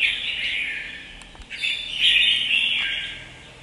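A caged red-whiskered bulbul from Kim Bôi, Hòa Bình sings loud, close, bright whistled phrases and chirps, alone without talk.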